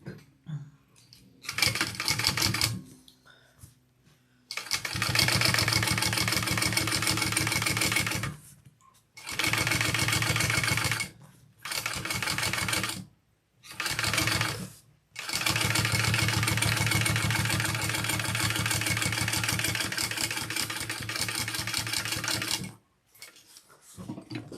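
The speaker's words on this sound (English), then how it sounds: "I'm going to top stitch on the base," Sewing machine top stitching along the base of a handbag, the seam allowance pressed toward the base; loud, steady motor bursts run for several seconds at a time, broken by short pauses, with no talking.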